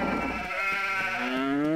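A sheep bleats in the farming game Harvest Moon Magical Melody, one long wavering, nasal cry held clearly and close for nearly two seconds with nothing else over it.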